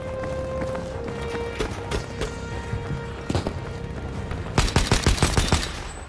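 Gunfire from a weapon in the video game Battlefield V: scattered sharp single shots at first, then a rapid cluster of loud close reports near the end over a steady background hum, with faint talk underneath.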